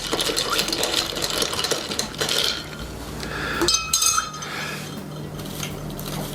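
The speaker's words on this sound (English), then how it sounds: "give it a little stir" A spoon stirs a glass of cranberry and orange juice cocktail, close by. Quick metallic clinks and rattles of ice against the glass are followed by a few brighter chimes.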